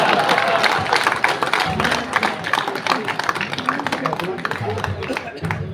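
An audience at a Hindi-language public talk or event bursts into steady applause, with many hands clapping together across the whole stretch and a voice speaking now and then over it.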